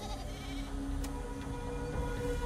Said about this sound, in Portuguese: Se afasta das minhas cabras.